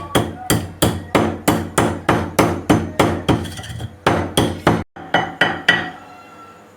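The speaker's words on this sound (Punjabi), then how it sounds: "ਪਹਿਲਾਂ ਇਹਨਾਂ ਨੂੰ ਆਪਾਂ ਹਲਕਾ ਜਿਹਾ ਕੁੱਟ ਲਵਾਂਗੇ" Black peppercorns and cumin seeds pounded in a mortar, heard as loud, steady thuds at close range, about two per second, slowing toward the end, with no voices.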